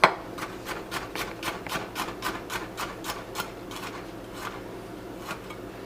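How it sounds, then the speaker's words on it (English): A sharp knife slices octopus salad ingredients on a cutting board in a quick, even series of about a dozen crisp strokes that taper off toward the end, close and without talk. "So I'm gonna take and I'm just going to make some slices just like that."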